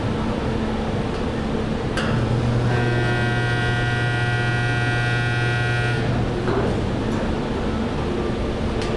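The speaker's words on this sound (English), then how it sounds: "So let's show you the spot welder real quick." A spot welder joining the quarter panel of a Dodge Challenger gives a steady electrical buzz lasting about three seconds over a constant background drone.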